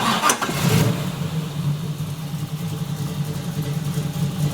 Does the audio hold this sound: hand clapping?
no